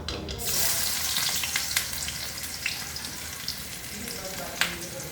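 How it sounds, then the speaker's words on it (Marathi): Cumin seeds sputtering in hot oil in a pan for idli sambar, a loud, dense frying hiss with rapid crackles and spits that persists steadily throughout, with no talking. "ते छान तळतळायला लागलं की मग आपण कांदा घालू"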